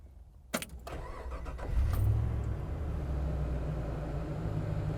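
A 1996 Land Rover Defender 110 with an LS3 V8 is started by key. A click and a brief crank catch into a loud, close engine that settles into a steady, rumbling idle.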